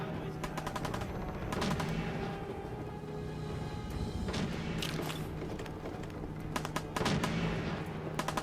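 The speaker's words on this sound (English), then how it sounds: "Someone's shooting, but I cannot see where they're at." Rapid bursts of gunfire from the video game Fallout 4, with clustered shots and volleys repeating across the stretch, loud and close, over a steady background of game ambience.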